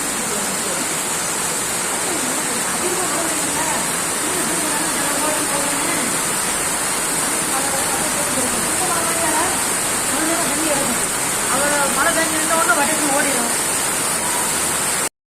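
Heavy monsoon rainwater pours across a road beside a mosque gate, a dense, steady roar of rushing water and rainfall that stays loud and unbroken throughout, with a voice speaking faintly beneath it.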